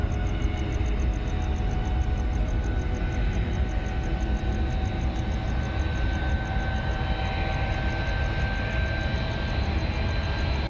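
A conventional fixed-wing airplane passes overhead, its steady engine roar filling the whole stretch as a constant broad drone with a faint high whine, loud and unbroken, with no voices.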